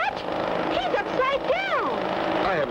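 A stunt plane's engine in the 1959 Clutch Cargo cartoon drones loudly and steadily throughout, its pitch whining up and down in sweeping arcs as the plane rolls and dives.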